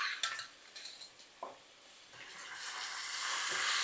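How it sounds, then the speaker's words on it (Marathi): Chicken pieces dropped into softened, lightly browned onions in a wok, giving a few clatters followed by a rising, steady sizzle and hiss that grows louder toward the end, with no voices. "यामध्ये घालूया चिकन"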